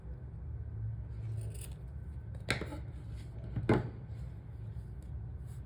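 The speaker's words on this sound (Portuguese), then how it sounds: "Agora eu vou cortar." Scissors snip through crochet yarn, two crisp separate cuts over a low, quiet room rumble.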